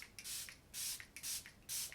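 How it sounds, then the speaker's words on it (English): Kosas Plump and Juicy Vegan Collagen face spray is misted in several quick, close hissing bursts, four or five short sprays in an uneven rhythm. "Then I'm going to take the Kosas Plump and Juicy Vegan Collagen Spray"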